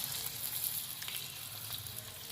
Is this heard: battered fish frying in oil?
yes